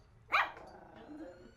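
A dog gives a single sharp, close bark, followed by a quiet, low background murmur.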